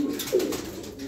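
One young ash-grey pigeon in a small loft flock lets out a single short, throaty coo close by, over a quiet low background.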